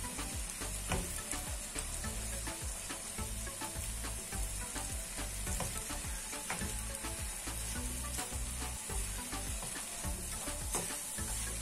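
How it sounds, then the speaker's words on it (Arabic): A filling fries in a pan with a steady, close sizzle while it is stirred, giving faint scraping and clinking over the constant crackle. "صافي نبقاو كنحركو على هاد الشكل كما تشوفوا"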